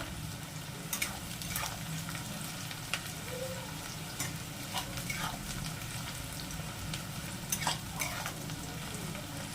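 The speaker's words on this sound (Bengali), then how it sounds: "একটু লাল লাল করে ভাজবো।" Onions frying in oil until reddish for chicken biryani, a dense continuous sizzle with frequent spoon scrapes and clicks of stirring, close up and steady throughout, no one speaking.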